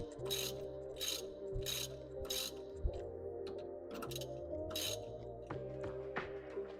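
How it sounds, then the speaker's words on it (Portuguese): A wrench tightens a front suspension bushing bolt on a Kei truck, making several short, sharp ratcheting clicks in bursts over a steady low hum in a workshop. "Seguro com uma chave aqui em cima, eu dou o aperto."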